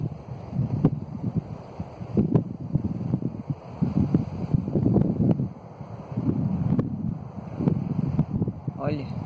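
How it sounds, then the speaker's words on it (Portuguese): Wind gusts rush and buffet outdoors along the Caminho da Fé trail, a steady low roar swelling and easing for several seconds with occasional sharp bumps. "Barulho do vento."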